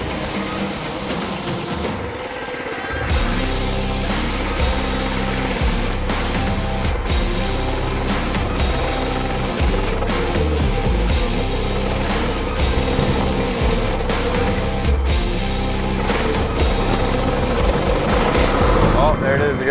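A mini bike engine running steadily on a test ride, a loud buzzing drone that starts abruptly after a brief quiet moment and holds close and constant throughout, with wind and road noise mixed in.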